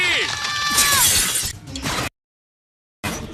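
Window glass shatters in the cartoon Kid vs Kat with a bright, crashing burst mixed with voices and animated effects, then drops to silence before another short loud burst.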